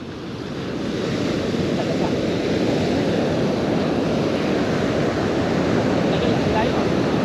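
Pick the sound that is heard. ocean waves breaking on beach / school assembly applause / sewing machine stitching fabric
ocean waves breaking on beach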